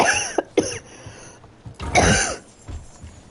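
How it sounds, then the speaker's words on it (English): Harsh coughs come in quick bursts: two sharp ones, a pause, then a louder rough fit with a smaller cough after it, close to the microphone with no talking. "I started coughing mid-read."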